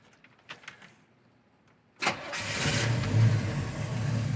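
A 1968 Chevrolet Camaro starts after a few faint clicks: the starter catches abruptly and the engine settles into a smooth, fairly quiet idle, close by and alone.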